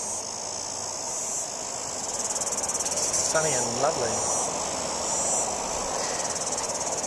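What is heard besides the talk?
cicadas buzzing loudly outdoors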